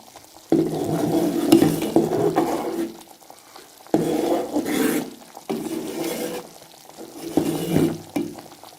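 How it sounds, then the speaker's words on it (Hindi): A spoon stirs flour cooking in ghee over medium heat, giving three long bursts of soft scraping and bubbling sizzle separated by short near-silent pauses; no voices. "मीडियम आंच पर ही इसको पकाना है और चम्मच को इसी तरीके से हिलाते रहना है ताकि ये नीचे लग न जाए"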